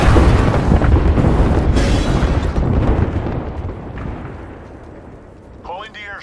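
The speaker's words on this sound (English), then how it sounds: "Yo, we got an airstrike coming down." An airstrike in a video game sets off loud, heavy rumbling explosions that roll on continuously and fade out over several seconds, with a brief voice near the end.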